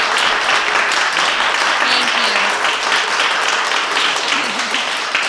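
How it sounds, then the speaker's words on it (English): A concert audience gives dense, loud, sustained applause for the jazz and Jewish music performers, an unbroken roar of clapping with some voices mixed in. "let's give them one more round of applause"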